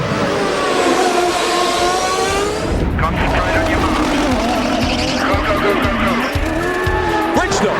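Champ Car World Series race cars speed around the 2006 Portland round, their high engine whines sweeping up and down in pitch as cars pass, with tire squeal, under loud, continuous broadcast narration.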